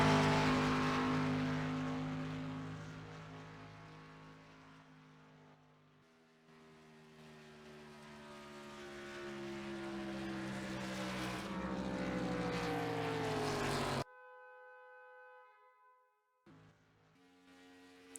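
Race car on track during a qualification attempt at a Daytona heat, a loud engine note rising and falling in pitch as it passes, then cutting to a steadier distant drone.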